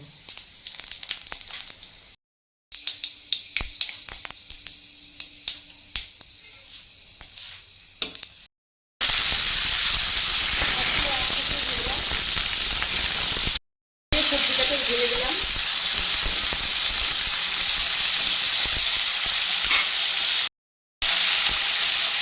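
Raw pumpkin frying in hot oil in a wok, a loud continuous sizzle broken by short gaps, preceded by sharp clicking and clattering as pieces go in.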